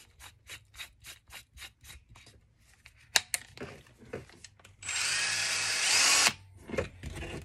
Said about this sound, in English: I'm going to drill a couple of holes here.